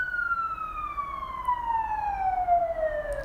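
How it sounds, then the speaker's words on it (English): An emergency vehicle siren passes by in a clear descending wail, its pitch falling steadily as it moves off, heard alone against a low background rumble with no talk. "it's a siren going by."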